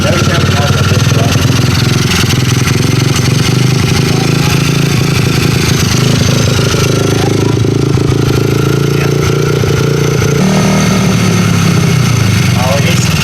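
Engine of an 88cc T-Bolt USA motor kit idles loudly and steadily close by with a rough, rattling putter, while people talk over it.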